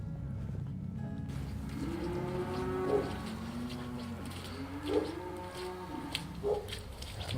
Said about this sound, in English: A lot of cows making a lot of noise.